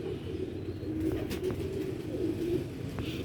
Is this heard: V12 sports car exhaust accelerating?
no